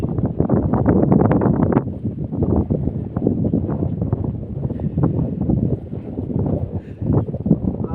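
Strong wind roars and buffets the microphone in a loud, continuous rush, gusting unevenly for the whole stretch with no voices, during unseasonal rain over a sesame crop field.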